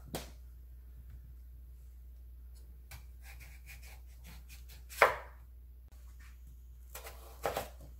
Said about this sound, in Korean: 무도 한 2cm 간격으로 해서 이렇게 잘라줍니다.